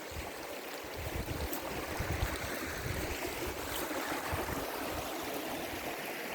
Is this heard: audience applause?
no